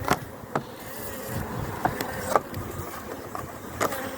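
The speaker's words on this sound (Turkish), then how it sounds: "şurubu çekmeye çalışan arılar var" Steady buzzing of many honeybees close by as they feed on syrup, a continuous dense hum with occasional soft clicks and knocks.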